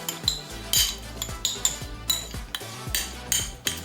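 A spoon clinks and scrapes against a bowl while melted butter is stirred into a caramel slice base, giving a quick run of light metallic taps and rubs close by.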